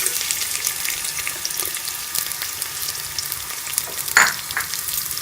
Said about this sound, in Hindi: और इसको हम 1 से 2 मिनट के लिए फ्राई कर लेंगे